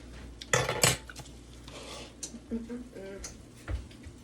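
A metal fork clinks against a dish while stuffed mushrooms are eaten, with a couple of sharp close taps followed by softer scrapes and clinks.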